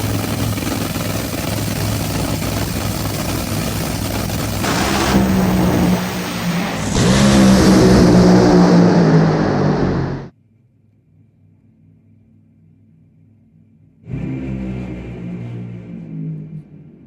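Drag racing car launching down the strip at full throttle, a loud roaring engine blast building over several seconds, then cutting off abruptly into quiet before crowd and ambient noise return.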